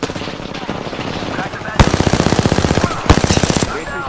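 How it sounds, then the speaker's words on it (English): Rapid automatic gunfire in a squad-based shooter video game, loud close bursts of evenly spaced shots with sharp single cracks, over background game noise and voices. "Taking fire!"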